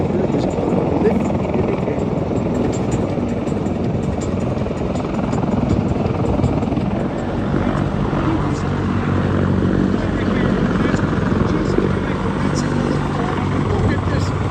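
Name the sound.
giant heavy-lift helicopter at air show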